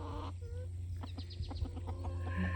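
Chickens in a backyard homestead coop clucking softly in short bursts over a steady low hum, fairly faint and close, with no talk.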